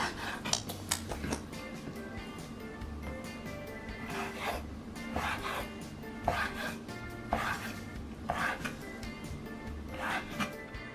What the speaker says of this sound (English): And then we cut up the meat